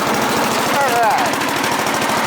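Bolens GroundsKeeper and 1054 Husky garden tractors idle nearby with a loud, rapid, uneven chugging beat, and a short voice cuts in partway through.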